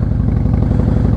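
A 2016 Harley-Davidson Fat Boy with a big radius Vance & Hines exhaust, its engine a loud, close, steady low throbbing rumble with a fast even pulse and no speech.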